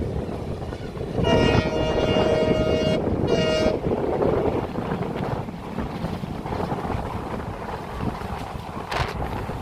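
A train travels from Gulma toward Siliguri Junction, its steady rumble heard from on board beneath strong wind buffeting. A horn blares for about two seconds, breaks off briefly, then sounds again.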